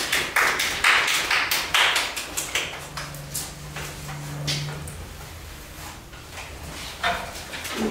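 Audience applause at a talk on love languages in Huancayo, Peru, heard as a run of irregular, uneven claps, louder at the start and thinning toward the middle, with a brief low hum partway through and no clear speech.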